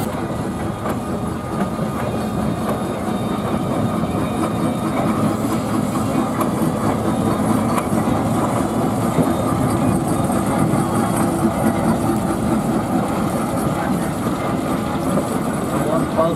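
A steam traction engine chuffs and rumbles as it drives around the ring at a steam rally, a continuous mechanical clatter heard outdoors with a voice talking over it.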